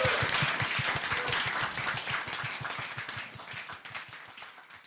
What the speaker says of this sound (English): can we please give our special guest a very large round of applause?